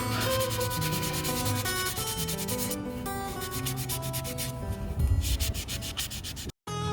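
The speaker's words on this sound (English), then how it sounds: "get these pieces sanded, so that I can then go tung oil" Wooden pieces for a tiny house are hand-sanded outdoors in crisp, chilly November air in the Pacific Northwest, producing steady rhythmic rasping strokes close to the microphone, with a brief pause near the end.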